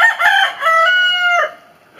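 A Lavender Americana rooster lets out one full, loud crow close by, the long harmonic call rising and holding for over a second before trailing off into quiet.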